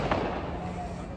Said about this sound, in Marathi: 2 मिनिटाच्या फटाके पूर्ण वाजवून